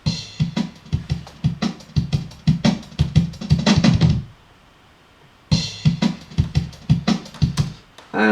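A drum break sped up in Serato to a 176 BPM drum and bass tempo: rapid, tight kick and snare hits in a fast loop that drops out briefly into near silence before resuming, loud and alone.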